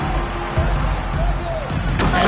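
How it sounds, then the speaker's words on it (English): Basketball slam dunk by Duckworth in a Trail Blazers at Raptors NBA game: an arena crowd murmurs and a commentator talks throughout, with a thud of the ball and rim near 0.6 s and a louder burst at about 2 s. "And it's slammed in by Duckworth."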